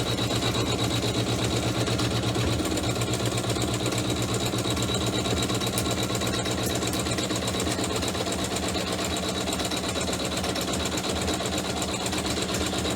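An embroidery machine works a chevron stitch on a pouch with a continuous, rapid, rhythmic mechanical whir that holds steady and close throughout.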